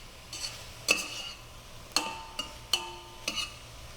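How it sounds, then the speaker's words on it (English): Onions tossed in a hot pan, with a faint sizzle underneath and several sharp metallic clinks and scrapes of a utensil against the pan, spaced irregularly. "And to add a little bit of flavor, we'll put in some onions. We'll just toss those around."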